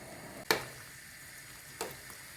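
Onion, carrot and peas fry in oil and butter in a pan, a soft steady sizzle with two sharp clatters of stirring or added ingredients, quiet and close.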